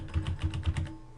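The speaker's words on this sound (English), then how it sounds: "I don't know if you can hear me typing in the background" Several quick keystrokes clack on a computer keyboard, a short close burst of typing with no voices.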